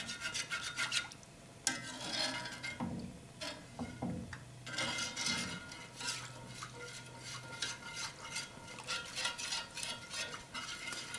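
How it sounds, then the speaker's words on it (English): A utensil scrapes and stirs along the bottom of a soup pot of chicken tortilla soup, giving repeated rasping strokes and light metallic clinks at close range, fairly quiet with no talking. "Scrape off any little bits that might be on the bottom."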